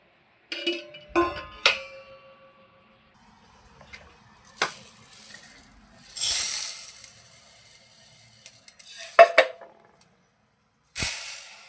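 Urad dal being scooped and poured with a tumbler while making idli and dosa batter from ration rice: a few sharp clinks and rattles of grains against metal, separated by pauses, close and clear with no talk.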